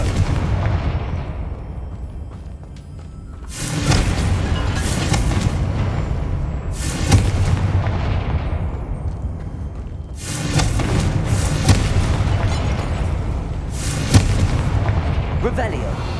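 Confringo blasting spells going off in Hogwarts Legacy on PS5: four loud, close booming explosions spaced a few seconds apart, each a sharp burst fading into rumble, with a voice heard amid the game sounds.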